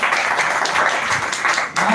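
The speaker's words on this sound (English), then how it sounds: "Please once again clap." At a school English speech competition, an audience claps for a speaker, a short burst of fairly close, dense clapping lasting about two seconds.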